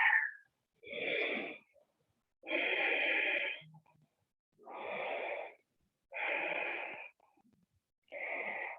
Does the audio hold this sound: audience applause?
no